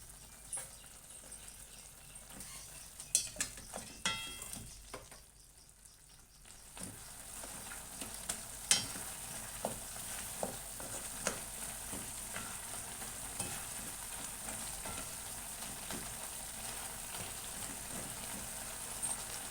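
Tomatoes softening in a pan for onion chutney give off a steady, moderate sizzle, broken by scattered clicks and scrapes of stirring and a brief quieter lull early on.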